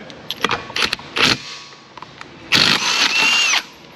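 Bursts from a pneumatic impact gun set to a low power setting, worked on a 2011 Toyota RAV4 steering system; several short rattling hits at the start, then one longer, louder run near the end, close by.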